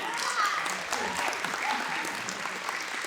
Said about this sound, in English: please give the woman with the vision a round of applause as she comes forward